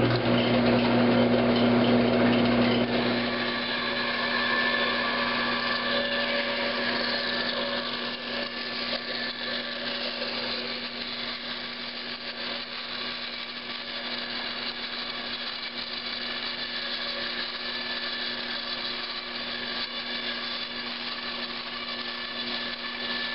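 A bandsaw resaws a wood block into thin veneer, a loud steady machine whine with strong sustained tones that eases slightly after the first few seconds as the blade runs through the cut, continuous throughout with no talking.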